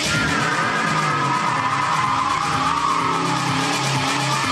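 A car's tires skid and squeal as it speeds away, loud and continuous over a roaring engine, with no talking.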